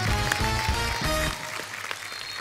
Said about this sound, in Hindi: जोरदार तालियां एक बार अजय सर और अभिषेक सर के लिए।